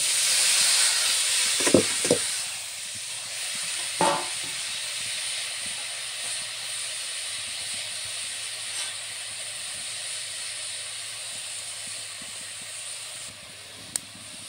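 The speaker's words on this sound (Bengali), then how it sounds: "তাই আমি প্রথমে শাকগুলো সেদ্ধ হতে দিয়ে দেবো কড়াইতে।" Cabbage greens boil in a wok with a steady hiss of steam. A couple of sharp clatters come early on, then the simmer continues alone.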